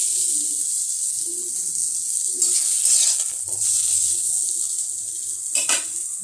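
Sliced ivy gourd (kundri) seasoned with turmeric and sugar sizzles steadily in a hot pan while a utensil stirs and scrapes now and then, near and even in level, with nobody talking.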